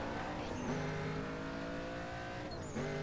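A Saleen sports car engine in Need for Speed: Most Wanted revs hard and climbs through the gears, loud and continuous with a Mustang GT-like tone, with a tire squeal mixed in.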